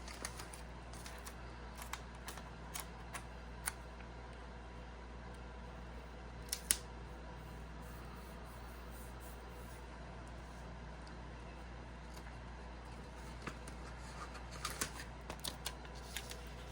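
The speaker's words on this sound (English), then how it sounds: "So let's put some of these stickers down." Stickers are peeled, handled and pressed into a paper planner, giving faint, sporadic crinkles and soft taps over a quiet background hum.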